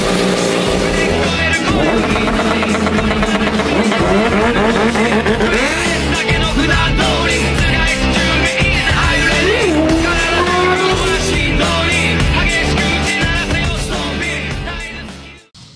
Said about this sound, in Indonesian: Pemasangan knalpot Pro Speed buat NMAX Turbo.